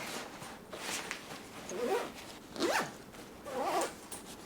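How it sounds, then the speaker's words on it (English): A backpack zipper is pulled closed in several quick rasping strokes, close and clear, each burst of zipping separated by brief pauses. "There we go, zips up no problem."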